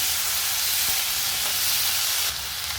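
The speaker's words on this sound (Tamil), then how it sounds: "இதில் ரெண்டு தக்காளி சேர்த்துக்கிறேன் தக்காளி நல்லா வதங்கிட்டு" Two tomatoes sauté with garlic and curry leaves in a pan for a chutney, giving a steady, loud, close sizzle that eases slightly near the end.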